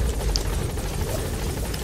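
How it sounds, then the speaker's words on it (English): Helicopter in Metal Gear Solid V under fire, a steady close rotor thrum and engine roar filling a short stretch, with no voices. "The helicopter's about to blow up. It's being shot at."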